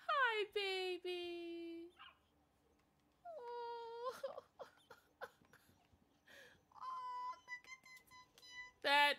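A puppy in the video game Warlords of New York whimpers and yelps in high, wavering cries across several bursts. A person talks and reacts over the sounds.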